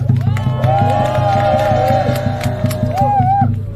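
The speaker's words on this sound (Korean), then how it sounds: "또 박수로 맞이해 주십시오" Rhythmic crowd clapping at an outdoor political rally outside a Baptist theological seminary gate, steady unison beats repeating about every quarter second, with cheering voices rising over it near the end.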